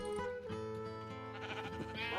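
Minecraft sheep bleating, a wavering nasal cry that carries over continuous background game music, fairly faint, with no one speaking.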